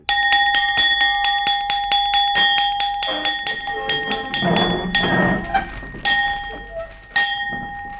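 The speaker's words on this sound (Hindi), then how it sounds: "हमारा हुक्म है, आधी छुट्टी की घंटी बजा दी" A school recess bell rings repeatedly in a quick metallic series of strikes, loud and close, with a steady ringing tone and a low rumble partway through.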